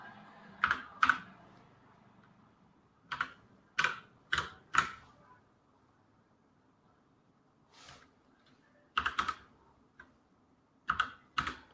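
Keys clack on a computer keyboard in quick separate bursts of a few strokes each, close and crisp, with quiet pauses between the bursts.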